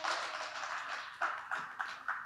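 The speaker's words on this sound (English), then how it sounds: "Please give Simone a round of applause." A small conference audience at a Polkadot event in Paris applauds, a dense patter of clapping that thins into a few separate claps near the end.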